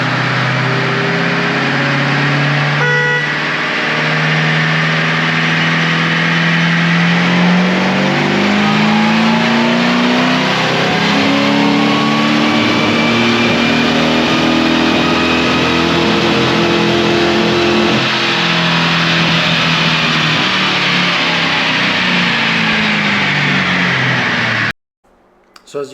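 A supercharged Ford Crown Victoria engine running on a dyno with nitrous activated, roaring loud and close in one long sustained pull as the pitch climbs steadily, then cutting off abruptly near the end.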